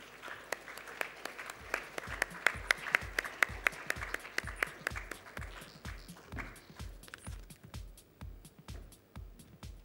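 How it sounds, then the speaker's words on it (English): A conference audience gives a steady round of clapping that lasts several seconds and thins toward the end, with no talking over it. "Let's welcome them all with a huge round of applause"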